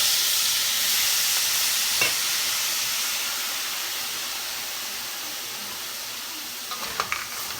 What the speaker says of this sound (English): add the salt water mix and roast for 20 to 25 minutes with frequent stir until it gets brown